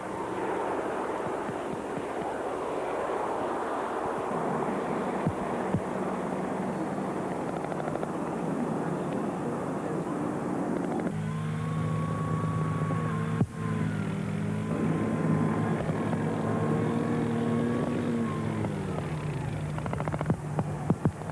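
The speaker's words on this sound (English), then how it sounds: "as the Hercules turns round for a quick departure, you can see just how manoeuvrable this 50-ton aircraft is." A 50-ton Hercules transport aircraft at an airshow turns on the ground and begins a short takeoff, its engines giving a steady loud drone with a rising propeller tone in the latter half, with no talk.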